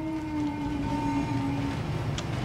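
A train rumbles past in the video game Wolfenstein: The New Order, a steady low mechanical drone with sustained tonal hums and a brief high squeal near the end, at moderate volume.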